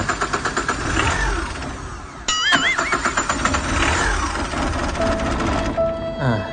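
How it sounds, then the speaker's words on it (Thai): A Tata Ace engine with misaligned timing marks cranks with a rapid chugging starter rhythm, catches and revs with the accelerator pressed, then falters and dies before cranking again, loud and close with a brief chime partway. "เราจะมาสตาร์ทเครื่องดูก่อนนะ อันนี้สตาร์ท ติดนะแต่ต้องเหยียบคันเร่งอ่า"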